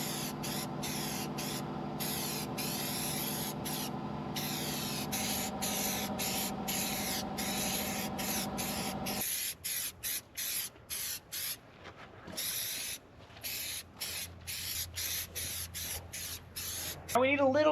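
Rust converter hisses from an aerosol can onto the chassis of an abandoned Dodge Power Wagon truck, loud sustained spray bursts that later break into shorter puffs, with talk alongside.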